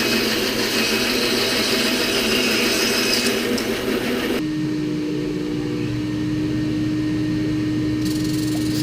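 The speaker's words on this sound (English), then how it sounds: "Sander just to sand and clean up that edge." An electric sander cleans up the edge of a solid wood RV table, giving a steady, loud, broadband whir. About halfway through, the sound shifts to a lower, steadier hum with a clear tone.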